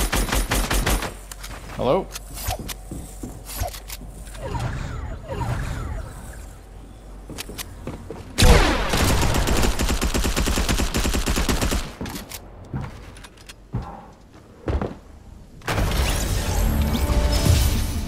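Rapid bursts of SMG fire ring out in a Fortnite match, with clusters of sharp shots, mechanical clatter and crashing impacts. A player's voice speaks briefly between the bursts.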